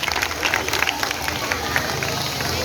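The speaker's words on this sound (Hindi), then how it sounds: "ताली बजाओ" Children clapping together on request at a charity event, a dense steady patter of many small hands held for a few seconds with a crowd murmur behind it.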